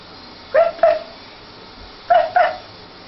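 A young child at bathtime imitates a dog barking, voicing two pairs of short, yappy woof sounds separated by a pause, close and clear against a quiet background.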